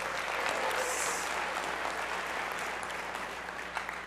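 A lecture hall audience breaks into applause, a steady wash of clapping from many hands that holds for several seconds at moderate distance before tapering slightly.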